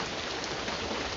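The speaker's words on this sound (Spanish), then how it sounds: "esta lluvia a la mañana es una lluvia más fuerte" Heavy rain from a sleep-sound app pours as a steady, dense, broadband hiss with no gaps, loud and close throughout.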